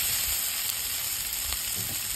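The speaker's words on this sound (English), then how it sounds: "And now we are adding the turmeric powder and the curry powder" Turmeric and curry powder sizzle in a frying pan with onion and chilies for a Jaffna gar fish curry, a steady close hiss with faint stirring ticks, no voices.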